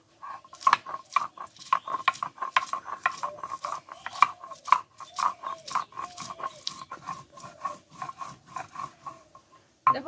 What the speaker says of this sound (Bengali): এই চারটে কাঁচা লঙ্কা আর রসুনটা আমি একসঙ্গে বেটে নেবো